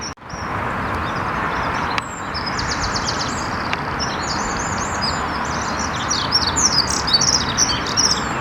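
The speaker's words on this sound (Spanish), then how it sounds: "Acentor común." Dunnock singing: short high warbling phrases repeat against a continuous outdoor rush of background noise, growing busier toward the end.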